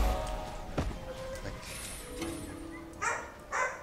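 A dog barks a few times in the Sylvari starting area of the video game Guild Wars 2, the short barks fairly faint and set against background game sounds and a little speech.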